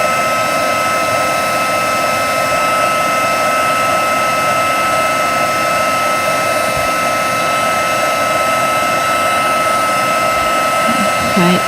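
A heat tool used for heat embossing blows continuously at close range, a loud, steady whooshing hum that stays unbroken from start to end, with a brief soft voice near the end.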